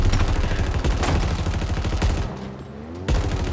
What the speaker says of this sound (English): This is a really big gun.